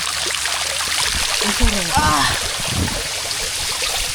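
A flowing stream rushes as a continuous broadband wash close by, with people talking briefly over the water.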